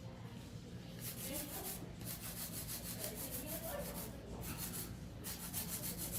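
A hand file scrapes back and forth across a long coffin-shaped acrylic powder nail, producing continuous rapid rasping strokes that are close and steady throughout.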